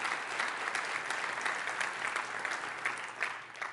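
A church congregation at a seminar service claps together, a dense, even round of applause heard alone at moderate volume that softens slightly as it ends.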